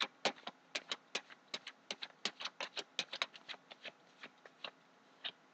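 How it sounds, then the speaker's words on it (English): Tarot cards being shuffled by hand, a quick irregular run of crisp close riffling snaps and flicks in a quiet room. "So I'll just give it one more shuffle."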